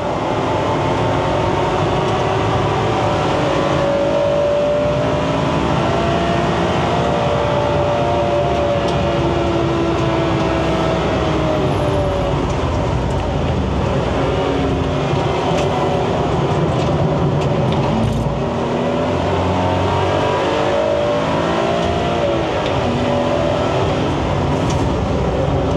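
A car laps a track at Sport Drive, its engine droning loudly from inside the cabin and climbing and falling in pitch through the corners, with a continuous roar and no talk.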